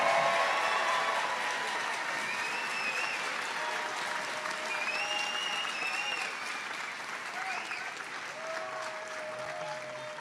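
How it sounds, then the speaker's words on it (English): Applause for graduates at a spring community and technical college graduation ceremony: a large crowd clapping steadily and evenly throughout, dense and sustained, with a faint voice in the background. "Give them a rounding applause for what they've accomplished."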